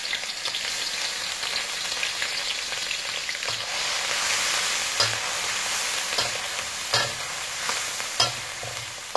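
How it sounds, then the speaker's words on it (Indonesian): Anchovies sizzle and crackle steadily in hot oil in a pan, with occasional scraping taps of a utensil stirring them. "Kemudian kita goreng ikan terinya."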